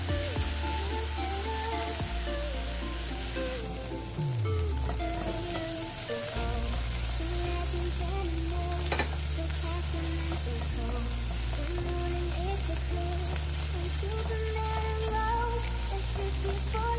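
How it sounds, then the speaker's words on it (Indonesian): Shrimp sizzling loudly in hot oil with shallots, garlic and ginger in a pan, a steady close crackle throughout for a Hong Kong-style luffa and egg soup, with occasional stirring and no talk. "baru kita masukkan udang rebonnya."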